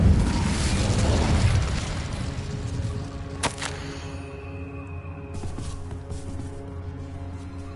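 An Incendio fire spell blast in a Hogwarts video game, a loud whooshing fiery burst that fades into crackling roar, followed by a sharp pop and lingering hum.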